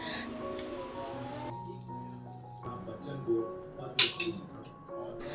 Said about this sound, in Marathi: थोडंसं तेल टाकून आपण छान मिरच्या परतून घ्यायच्यात